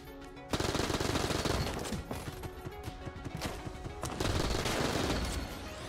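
Heck Blaster firing in the video game Mod the Gungeon, a dense, rapid stream of gunshots with layered impacts that starts abruptly and continues loudly over busy game music, with no talk.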